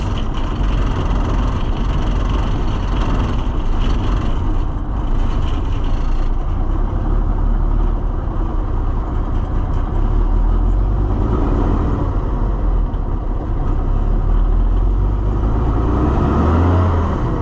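A Ford L9000 semi truck with a Cummins diesel pulls away, its engine a loud, close, steady rumble and roar that swells as it drives off.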